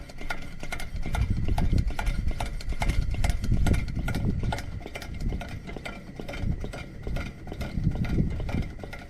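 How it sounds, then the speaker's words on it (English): A Coleman model 275 pressure lantern being pumped by hand, with a steady run of rhythmic plunger strokes, close and fairly loud, repeating evenly throughout with no talk. "Let's pump a little bit more pressure in there now."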